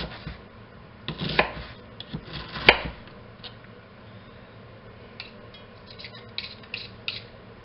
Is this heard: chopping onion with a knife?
yes